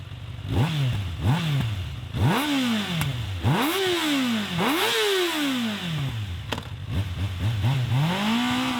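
A Kawasaki Ninja ZX-6R sport motorcycle with an Akrapovic exhaust revs hard through several gears, its exhaust rising and falling in loud, raspy sweeps, close by.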